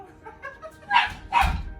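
A dog indoors barks excitedly, two sharp loud barks close by after softer yips and whines.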